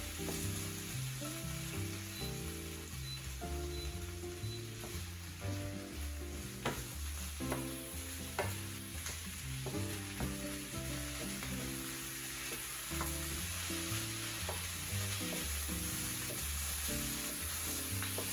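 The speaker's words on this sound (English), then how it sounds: "Just give them a good stir." Potatoes and onions for a Spanish omelette sizzle steadily in a frying pan while being stirred, with soft scraping clicks over the constant fry and no voices.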